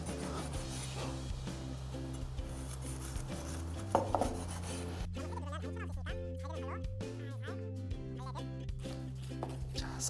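Knife cutting crisp deep-fried Chinese spring rolls into bite-size pieces on a board, a series of rasping crunchy strokes with dull taps against steady background music, while someone speaks quietly.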